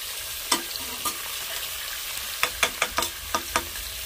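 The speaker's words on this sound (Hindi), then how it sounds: "अब इसको अच्छी तरह से हम भून लेंगे।" Ginger garlic paste frying in a pan for mutton korma: a steady sizzle under a series of sharp spoon taps and scrapes, two early then a quick cluster of about six near the end, with no talking.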